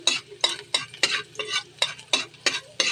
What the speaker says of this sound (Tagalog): Mainit na yung mantika, mag-isa tayo ng bawang.